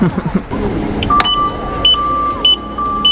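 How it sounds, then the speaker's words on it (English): A car alarm sounds nearby in Rome: a steady electronic tone with short beeps repeating at regular intervals, over faint street noise. "the alarm started going off and I got really scared"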